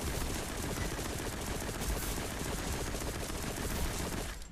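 Sustained automatic gunfire as a weapon empties a full magazine in the Destiny Rising shooter game, a dense unbroken burst of rapid shots lasting about four seconds at steady loudness, then cutting off abruptly.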